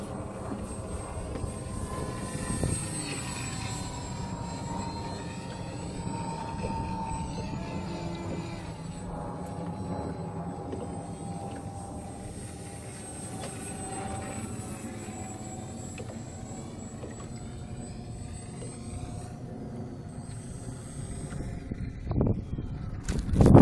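An electric J2 seaplane flies with a steady whining hum and broadband rush, moderately loud and sustained, with faint talk in the background.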